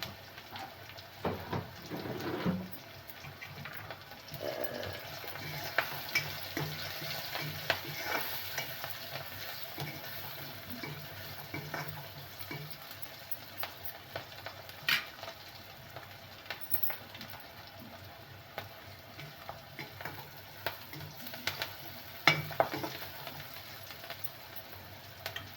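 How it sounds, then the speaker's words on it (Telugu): Chopped onion and green chili pieces fry in a pan, a low continuous sizzle with intermittent scraping and stirring clicks of a spoon, close and fairly quiet throughout. "ఉల్లిపాయ ముక్కలు, పచ్చిమిర్చి ముక్కలు బాగా వేగిన తర్వాత"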